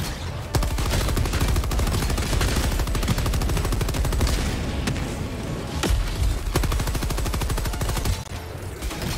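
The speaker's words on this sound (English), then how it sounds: "There's a Gatling." Sustained rapid Gatling gun fire in Helldivers 2, a dense continuous stream of shots running loud and close through the whole stretch, with a few heavier booming impacts punctuating the barrage.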